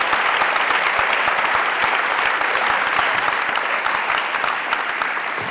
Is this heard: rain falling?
no